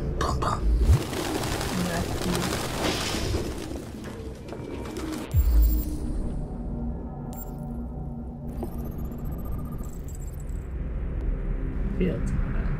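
Pigeons coo in a street scene of the Detroit: Become Human game, soft repeated rumbling calls sitting low in a busy ambient bed with occasional thumps, while a person talks over them.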